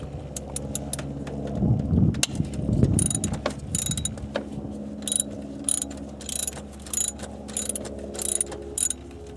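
A ratchet wrench loosens the 12mm nut holding a Nissan neutral safety (inhibitor) switch, giving quick bursts of close metallic clicking with a low mechanical hum and a few heavier knocks early on.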